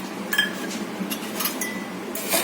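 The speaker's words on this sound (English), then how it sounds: "Let's stir it." A spoon stirs sugar into milk in a bowl while making mango pudding, giving a few light, scattered clinks of metal on the dish over quiet background hiss, no voices.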